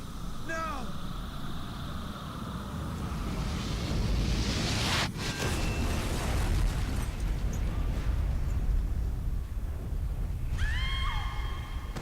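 A fuel-air explosive goes off in a video game as a loud, sustained rumbling blast that builds and roars for several seconds, with shrill horse-like cries before and after.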